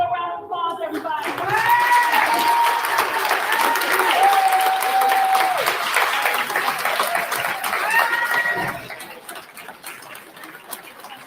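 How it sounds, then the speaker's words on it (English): An audience at a school board meeting applauds Ms. Hill, a dense, sustained burst of clapping that swells and holds for several seconds before fading, with a voice and some whoops heard over it. "Give a round of applause, everybody."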